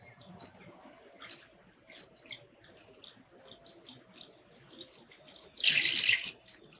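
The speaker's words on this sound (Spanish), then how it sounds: "Entonces, una vez que están ubicadas las piedras, vamos a volcar el agua." Water is poured over arranged stones and quartz crystals: faint trickles and drips, then a brief, loud rush of pouring near the end, with no voices.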